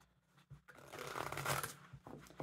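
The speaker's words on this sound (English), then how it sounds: "So I might just pull like one more card for this tower." Tarot cards being shuffled by hand, a close papery riffling that builds to a dense rustle mid-way and then trails off into a few soft flicks, with no talking.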